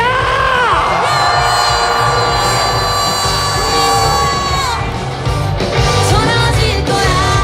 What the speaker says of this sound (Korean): 하늘까지 닿도록 힘찬 함성